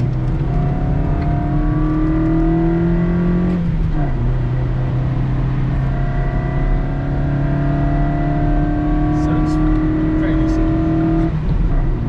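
A car engine hums steadily and rises in pitch under acceleration, with a brief dip mid-way as if shifting, heard close and continuous throughout.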